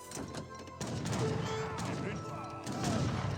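Musket and cannon fire from a battle between French and Ottoman armies in the Age of Empires 3 strategy game, a dense volley of shots and crashes running continuously with a voice talking over it.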